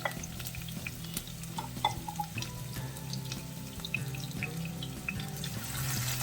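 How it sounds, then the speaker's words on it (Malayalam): Chopped medium onion sautéed in hot oil for mutton chops, a steady low sizzle with stirring scrapes and small clinks running throughout, close and fairly quiet, with no one speaking. "എണ്ണ ചൂടായി കഴിഞ്ഞാൽ അതിലേക്ക് ഒരു മീഡിയം സവാള അരിഞ്ഞത് ഞാൻ ചേർക്കുന്നുണ്ട്"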